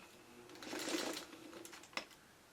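Sewing machine stitching a quilt block for a traditional Fish Fins pattern, a short run of fast mechanical whirring that swells and fades, ending with a sharp click, close and fairly faint.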